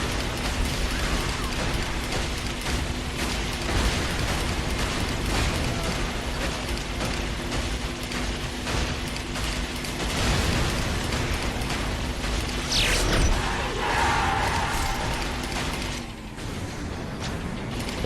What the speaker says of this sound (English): I'm just going to cause havoc absolutely everywhere, shooting some people in the face, using the rockets.